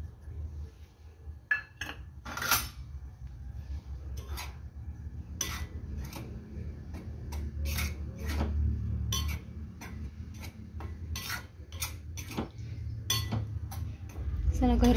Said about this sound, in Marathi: त्याच्यामध्ये मी 1 वाटी गव्हाचं पीठ घेतलेलं आहे, ते मस्तपैकी गुलाबी सर होईपर्यंत त्याच्यात आपण भाजून घेऊया